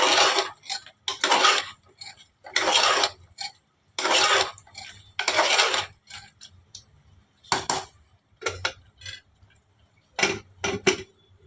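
A spoon scrapes and clinks against a cooking pan in repeated bursts while curd is stirred into masala, close and fairly loud, with brief pauses between strokes and no talk.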